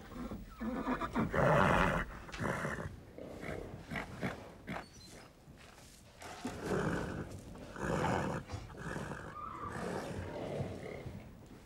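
A mare neighs and snorts during a veterinary check, loud and close, in repeated whinnying bursts with restless breathing in between, no talking.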